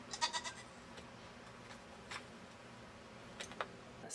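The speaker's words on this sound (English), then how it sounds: "goats seem to be a very popular choice." A backyard pet goat in Austin gives a few short, faint bleats early on, with a couple more soft calls near the end against a quiet outdoor background.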